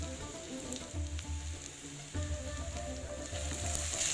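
Onion, ginger and garlic fry in a pan with a steady, fairly quiet sizzle and crackle that keeps going without a break, slightly louder in the second half.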